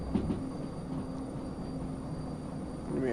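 A freight train rumbles steadily along the track in the railway game Derail Valley, a low, even rolling drone with faint clicks and a soft tonal whine, fairly quiet and unbroken.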